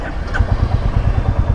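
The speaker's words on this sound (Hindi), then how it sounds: "वो बाइक स्टार्ट हो गई मालूम भी नहीं पड़ा" A Royal Enfield Classic 350 motorcycle engine firing up and idling with a low, thumping single-cylinder beat that settles into an even, rapid pulse, close by and without talk.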